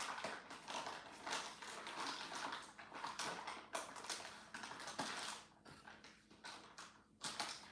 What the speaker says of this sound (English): Let me close these bags before they knock over and make a mess